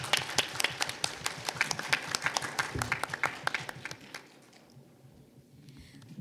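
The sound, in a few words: audience applause after a forum talk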